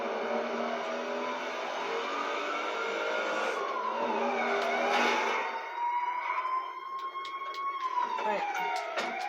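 A car drives in a video game, its engine tone climbing and falling as it speeds along, while siren-like wails and sharp skid noises come through. A person talks over the game sound, which plays at moderate level.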